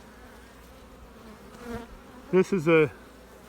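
Honey bees buzz around a hive frame crowded with young bees, a soft steady drone in the background while someone speaks briefly over it.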